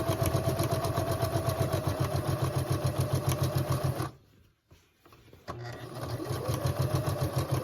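A sewing machine stitches a sleeve into a bodice, running steadily with a fast rhythmic hum, then stopping briefly and starting again, close and loud, with no talk.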